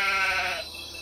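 A single sheep bleat in a video game, a clear wavering cry lasting about half a second before fading to quiet background.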